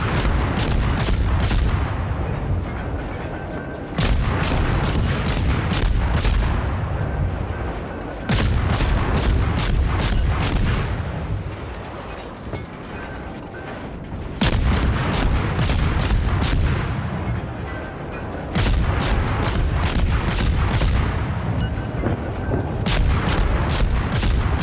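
Heavy naval guns of the cruiser Dresden in World of Warships firing in repeated rapid salvos, each a cluster of sharp booms followed by rumbling decay, with short gaps between volleys.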